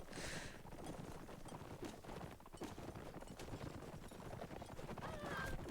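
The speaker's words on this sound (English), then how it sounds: "I'm still wondering why Harmon is riding the saddle horse." Horse hooves clip-clop in a video game, a quick, busy patter of hoofbeats mixed with other game noises and faint voices underneath, fairly quiet overall.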